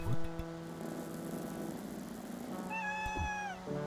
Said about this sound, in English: We need to pet cats.